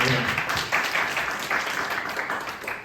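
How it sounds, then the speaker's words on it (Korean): Audience applause during a youth sermon at a church service, a steady wash of many hands clapping for about three seconds with a few louder bursts of claps. "우리 지금 달라진 분에게 박수 한번 주시기 바랍니다"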